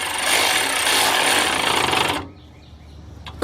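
A ratchet works on a fuel pump clamp on a Chevy LUV, Honda Passport or Isuzu Rodeo, giving a loud, steady rasping, rubbing drone close by for about two seconds before it cuts off, leaving a quiet tail.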